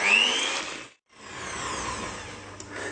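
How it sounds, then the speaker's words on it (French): An electric mixer whips liquid whole cream with mascarpone until thick, giving a steady, loud whirring drone that cuts out briefly for a moment and then resumes at an even level. "je verse donc ma crème liquide entière et je vais fouetter ça donc jusqu'à ce que ça épaississe"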